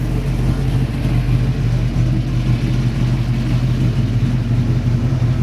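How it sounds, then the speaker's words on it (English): A 1970 Dodge Charger R/T hot rod backing past nearby, a steady, loud, low engine rumble that holds evenly throughout with no talking. "Gonna take a little break here while they back this hot rod by us."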